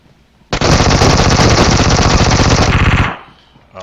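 Sustained automatic gunfire in PUBG Mobile, a loud unbroken burst of rapid shots lasting about two and a half seconds that then cuts off abruptly into near silence.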